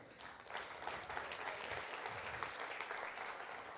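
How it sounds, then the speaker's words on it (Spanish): Applause from a church congregation, a steady wash of many hands clapping that is fairly faint and distant, continuous across the short stretch without talk. "Un aplauso, por favor."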